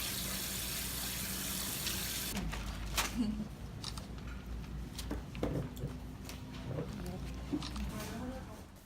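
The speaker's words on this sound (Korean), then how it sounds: "헹궈서 빠락빠락 헹궈주셔야 돼요" Buckwheat soba noodles are rinsed under running water from a tap, a steady flow of water with splashing and handling noises that pick up partway through.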